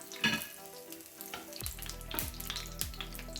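Bay leaf, cardamom pods, a small piece of cinnamon and cloves fry in hot oil for an egg korma, giving a soft, close sizzle with light clicks of the spices being dropped in, over a faint steady tone.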